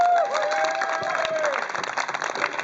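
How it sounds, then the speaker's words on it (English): An audience applauds steadily after a talk, a dense wash of clapping with faint voices mixed in, holding at an even level throughout. "Keep that applause going."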